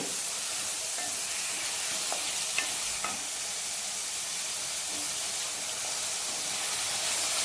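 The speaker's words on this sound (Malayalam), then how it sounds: "ക്യാരറ്റ് ഇട്ടിട്ട് നന്നായിട്ടൊന്ന് ഇളക്കി കൊടുക്കുക." Carrots get stirred in a hot pan with tomato for Tamil Nadu style carrot kootu, a continuous sizzling hiss with a few soft scrapes and clinks of the spoon, close and steady throughout.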